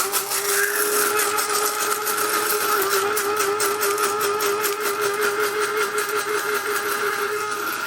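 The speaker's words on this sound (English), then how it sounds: "this is a spice grinder specific for spices" An electric spice grinder blitzes spices for a BBQ dry rub with a loud, steady, high-pitched motor whine and rattling whirr that runs continuously for several seconds with no talk.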